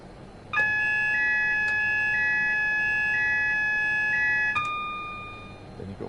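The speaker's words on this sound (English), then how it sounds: "Then you've got to wait for the alarm to go off again." Steady electronic tone alarm of a train cab vigilance system in Train Sim World 5, a high two-pitch beeping pattern that sounds continuously for about four seconds and then cuts off, with faint background hum.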